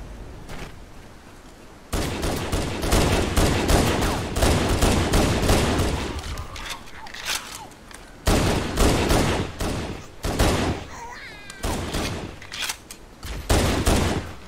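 Pistol and other gunfire in Halo: Combat Evolved, a dense run of loud sharp shots with short pauses, dropping quiet near the start and swelling again in later bursts.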